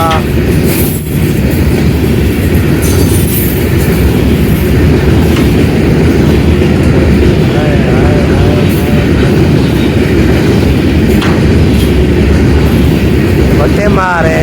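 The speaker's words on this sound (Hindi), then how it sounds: "रेलगाड़ी जा रही है जी अल्हम्दुलिल्लाह" A train rolls past close by, a steady, loud rumble of wheels and carriages with rhythmic clacking and a faint squeal, lasting the whole stretch without letting up.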